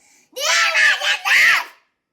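Someone shouts loudly in two bursts, shrill and close, the second a drawn-out yell, followed by silence.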